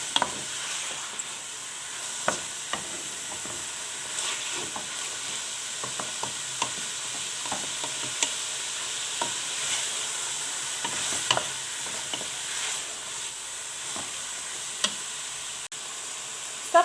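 Chicken breast searing with vegetables in a pan for seafood paella, a continuous sizzle broken by repeated sharp stirring scrapes and clicks throughout, close and steady, no talking.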